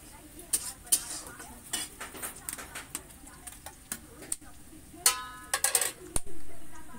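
Onions fry in a pan for a duck meat curry, a soft sizzle under repeated sharp clinks and scrapes of a spatula against the pan, with some speech in the background.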